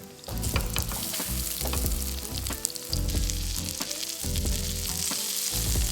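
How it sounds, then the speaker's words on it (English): Korean round pancakes coated in flour and egg pan fry in oil with a loud, continuous close sizzle and repeated scraping stirs and taps, briefly pausing twice before resuming. "And then coat with the flour, then eggs, and pan fry."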